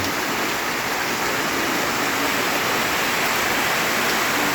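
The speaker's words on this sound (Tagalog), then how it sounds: "Walang humpay ang ulan dito sa Bicol." Heavy rain in Bicol, Philippines, pouring down in a constant, dense roar with no letup and no voices.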